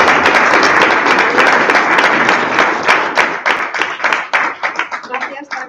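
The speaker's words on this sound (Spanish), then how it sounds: "les damos un aplauso" An audience at a talk applauds, with dense clapping that stays steady, then thins into scattered individual claps as it fades out.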